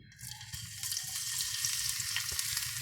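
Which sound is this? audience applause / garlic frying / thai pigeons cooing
garlic frying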